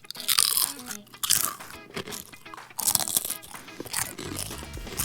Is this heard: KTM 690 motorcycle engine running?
no